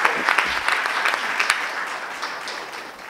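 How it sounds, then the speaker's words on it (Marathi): An audience at a Holi comedy poetry gathering breaks into dense, sustained applause that gradually tapers off over a few seconds. "एकदा या सादरीकरणासाठी आणि किशोरजींसाठी जोरदार टाळ्या झाल्या पाहिजे."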